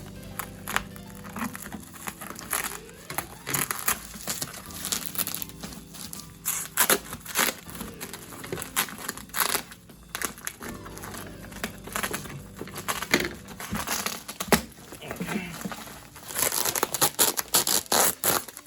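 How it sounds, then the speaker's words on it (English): Scissors snip and crunch through a wrapped package, with steady crinkling and rustling of plastic and tape up close and no talking. "I am gonna have to use scissors on this one"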